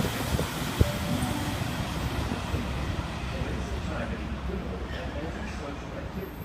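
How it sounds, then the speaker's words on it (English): A Sydney Trains set, labelled A64, passes through platform 1 of Pendle Hill station on a city-bound service. It makes a steady, fairly loud rumble of wheels and carriages that holds throughout, with a brief sharp clank near the start. "A64 passing platform number 1, city service."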